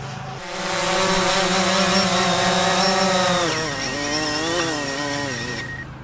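DJI Phantom drone motors whirring close by during a hand-catch landing, a steady high buzzing with stacked tonal harmonics that waver and dip in pitch partway through as the motors spin up and down unevenly.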